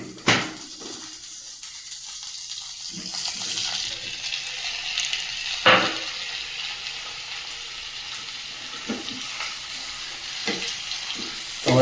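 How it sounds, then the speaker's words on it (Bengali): Tomatoes fry in a pan with cumin and salt, giving a steady close sizzle with occasional louder spits and pops and faint stirring, alone without talk. "টমেটোটা বেশিক্ষণ ধরে ভাজো"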